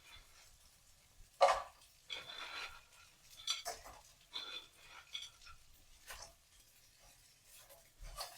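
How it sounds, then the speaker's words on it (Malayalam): Salt pepper chicken being stirred together with chips in a pan: quiet scraping and clinking bursts of a utensil against the pan, recurring irregularly with soft pauses between strokes. "ഞാനിപ്പോൾ ചിപ്സ് കൂടെ ചേർത്ത് നന്നായിട്ടൊന്ന് ഇളക്കി കൊടുത്തിട്ടുണ്ട്."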